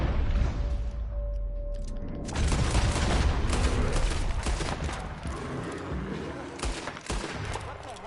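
Rapid bursts of gunfire in Red Dead Redemption 2 fill the whole stretch, loud and dense, with a sharper crack near the end and a voice talking over part of it.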